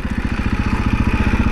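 Supermoto motorcycle engine running close by, a rapid, even thumping pulse that holds steady and loud the whole time, with no rise in revs.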